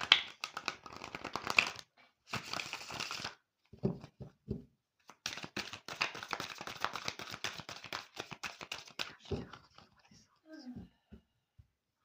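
Tarot cards shuffled and cut by hand, bursts of rapid riffling and flicking clicks broken by short pauses, close, with a person speaking over parts of it.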